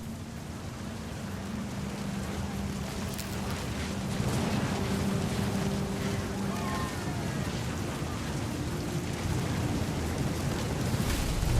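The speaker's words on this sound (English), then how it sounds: "The thunder sounded much too close and full of angry power." Rain and thunder from the video game What Remains of Edith Finch: a steady, dense wash of heavy rainfall with low rumbling underneath, continuous and loud throughout, with no speech.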